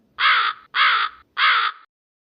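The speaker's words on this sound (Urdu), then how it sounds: "میں وہی سریلا کوا ہوں جسے آپ تلاش کر رہی ہیں۔ میں آپ کو ابھی گانا سناتا ہوں۔" A crow caws three times in a steady rhythm, loud and close, with short gaps between the calls and no other sound.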